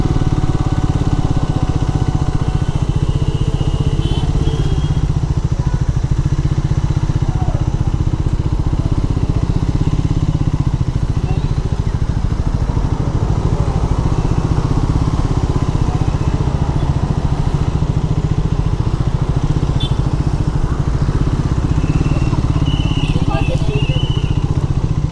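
A motorcycle engine runs steadily and loudly at close range as it rolls toward bike parking at Bannerghatta Biological Park zoo in Bangalore. The drone is unbroken, with faint speech beneath it.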